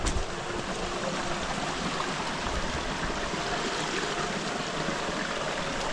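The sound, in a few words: flowing creek water while walking in it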